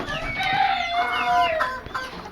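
A rooster crows in a long drawn-out call while hens cluck around it, close and fairly loud in a busy poultry yard.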